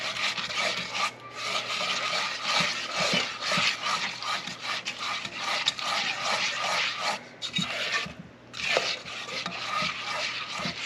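Blackberry puree and sugar get mixed by hand in a bowl, making continuous scraping, rubbing strokes in an uneven rhythm with short pauses, close and fairly loud, with no talking.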